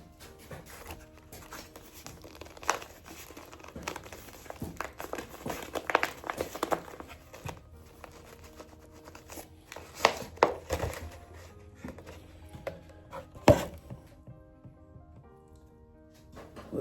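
Boxwood bonsai being worked loose from its pot, with soft scraping, crinkling and several sharp thunks and knocks scattered through a quiet, close-up stretch.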